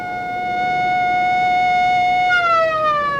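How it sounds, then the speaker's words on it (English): A civil-defense-style siren wails loud and close, holding a steady rising tone before its pitch begins to slide downward near the end, with no voices. "that siren means I'll be called back"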